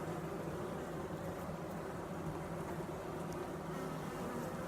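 Honeybees hum on their first worked comb while tending brood, a soft continuous buzzing drone, steady and fairly faint with no voices.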